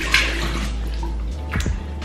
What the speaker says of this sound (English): I'll just wash my face.